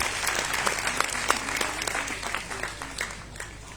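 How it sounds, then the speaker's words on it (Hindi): Audience applause at an ashram groundbreaking ceremony, a dense run of hand claps with distinct sharp claps standing out, steady and fairly close, fading slightly toward the end. "तालियों में कमी नहीं होनी चाहिए।"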